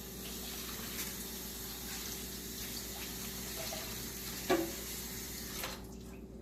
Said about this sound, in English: So let me go ahead and rinse off my funnel.